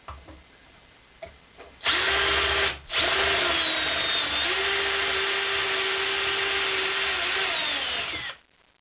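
A power drill runs under load as a bit bores into a workpiece, a loud whining motor that starts, briefly stops, then runs steadily for about five seconds before winding down, with no voices.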